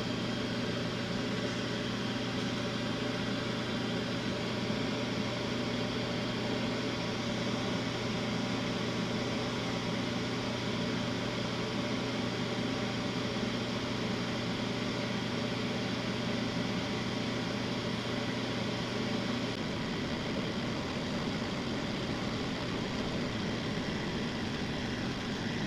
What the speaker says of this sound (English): I have the vent for my stove to carry the bad fumes out